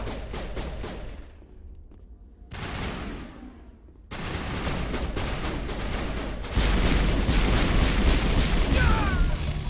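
Gunfire erupts in a Mass Effect firefight, bursts of automatic shots that drop out briefly, then return and build into a loud, sustained barrage of rapid fire and impacts, close and dense with faint voices underneath.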